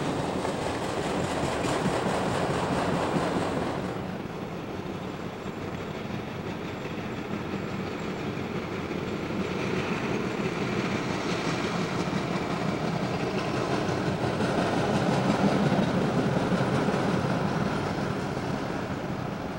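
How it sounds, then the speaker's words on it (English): Norfolk Southern freight train hauled uphill by two locomotives toward Horseshoe Curve near Lilly, Pennsylvania, on an early February morning; a steady, loud rumble of engines and rolling wagons fills the whole stretch, swelling slightly near the end. "Two NS units were pulling this up the hill."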